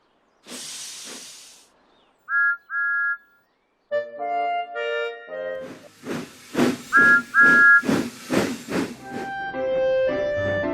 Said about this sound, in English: That sounds like a very good engine whistle.